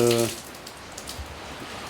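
Rain falls steadily on a construction site for a seniors' residence in Bayonne, a soft, even patter heard close by after a brief voice at the very start.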